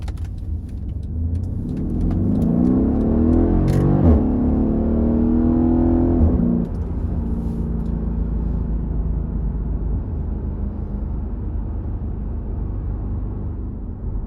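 A 2015 Mercedes-Benz E63 S AMG wagon pulls hard up to 50, its loud engine note climbing in pitch with a shift near six seconds, then settling into a steadier rumbling cruise with no talk.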